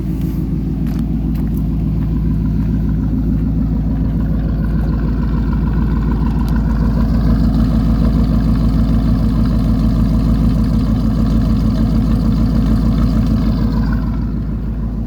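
A 1999 Chevy Tahoe work truck engine with factory dual exhaust idles with a steady, deep rumble, loud and continuous throughout, with no talking.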